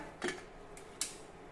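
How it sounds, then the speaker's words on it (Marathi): Metal pressure cooker lid being closed, two or three sharp clicks and clanks close up over a quiet background, with no talking. "कुकरचं झाकण बंद करूया"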